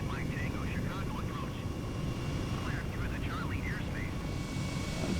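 An Airbus H135 helicopter in Flight Simulator 2020 slows into a hover over Chicago, giving a loud, steady rotor and turbine roar that stays level throughout, with faint wavering higher tones drifting over it.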